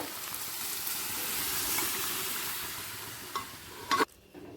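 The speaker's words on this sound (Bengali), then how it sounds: "ডালের সাথে মশলাটা মিশিয়ে নিলাম" Boiled dal being stirred together with a fried spice tempering in a pot, a steady soft sizzling hiss with scraping stirs, ending in a couple of brief louder clatters before it quiets.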